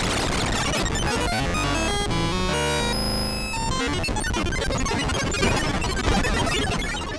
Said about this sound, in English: We also have LFO2, which is hard routed to the pitch, square, as well as sample and hold.